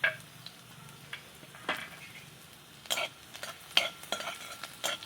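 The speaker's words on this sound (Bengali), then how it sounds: "এবার অল্প একটু রসুন কুচি দিয়ে দেবো।" Chopped garlic frying in mustard oil in a karahi, a soft steady sizzle under sharp scrapes and clicks of a spoon stirring against the pan, fairly quiet with no talking.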